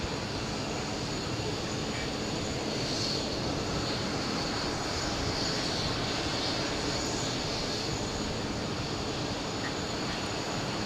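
An airliner departs JFK for Honolulu, a faint, distant, steady engine rush with hiss, continuing evenly throughout without a clear peak.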